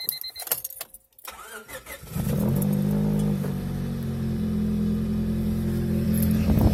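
Honda car with a D16 engine: a few seconds of clattering handling noise, then the engine settles into a loud, steady low idle hum that continues evenly to the end.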